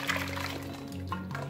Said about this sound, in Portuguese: pus mais um pouquinho de água pra deixar mais ralinha